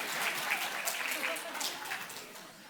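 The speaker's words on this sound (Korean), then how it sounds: "박수." A church congregation claps at a Sunday service to celebrate a bronze medal, a dense patter of many hands sustained throughout and fading slightly toward the end, with murmured voices mixed in.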